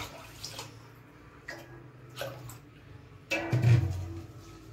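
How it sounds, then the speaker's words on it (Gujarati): A few faint splashes, then a short, closer pour of water over rice in a vessel, lasting about a second near the end. "હવે આપણે આ પાણી છે નાખી દઈશું, ચોખા ડૂબે ને એટલું પાણી નાખવાનું"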